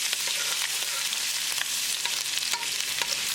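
Ginger fries and is stirred in a hot pan with dal nearby, making a dense, loud, continuous sizzle with scattered scraping clicks of the spoon close by.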